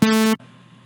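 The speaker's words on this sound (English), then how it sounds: "That was the sound of the sawtooth." A buzzy, harmonically rich synthesized sawtooth wave tone sounds briefly and stops abruptly, leaving quiet background hum.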